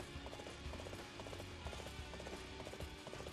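In Dynasty Warriors 8: Empires, a regular horse's hooves pound in a fast, steady galloping rhythm, continuous and moderately loud beneath a dense wash of battle noise.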